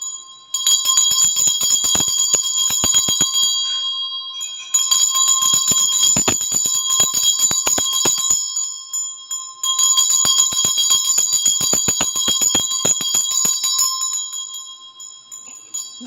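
A small bell is rung before a tarot reading: three long bursts of rapid, bright, ringing strikes, separated by brief pauses, loud and close with no talking.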